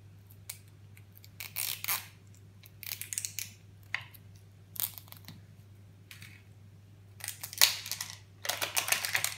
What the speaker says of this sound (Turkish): cırt cırtımızı açalım.